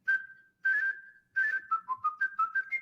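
A man who performs whistling with orchestras whistles close and clear: two sustained held notes, then a quick run of short, bright melodic notes. No talking.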